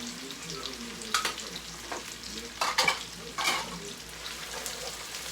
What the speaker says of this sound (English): So now what we're gonna do is add the veggies to this.